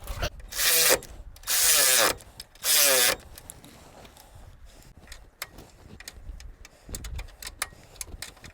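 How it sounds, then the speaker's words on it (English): Bolts and nuts being tightened on a Toyota lower ball joint: three loud bursts of a power tool, followed by scattered metallic clicks and clanks of work on the part. "and then we tighten everything down"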